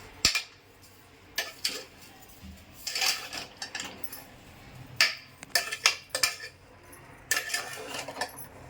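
A spoon stirs sugar into carrot halwa in a metal pot, giving irregular clinks and scrapes in scattered bursts. The sound is close and moderately quiet, with no talking.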